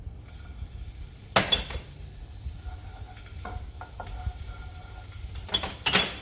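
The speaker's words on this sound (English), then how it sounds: "So we put the rest of the butter in a pan." Butter melting in a pan for a carbonara sauce to go with mushroom tortellini, with a couple of bright sizzling bursts over a low steady hiss, along with faint pan clinks.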